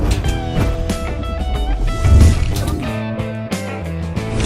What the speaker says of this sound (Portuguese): Roda a vinheta.